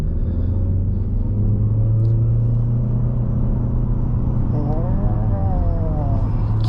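A 2022 Haval H6 1.5L hybrid pulls away under throttle, a steady low engine and drivetrain drone heard from inside the cabin, rising slightly in pitch near the end.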